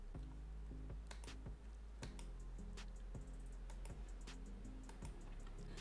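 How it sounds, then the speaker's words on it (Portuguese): Computer keyboard keys and mouse buttons click sharply and irregularly at close range, a steady series of faint taps over a low background hum, with no talk. "é só você apertar a tecla Shift e ir clicando em cada borda"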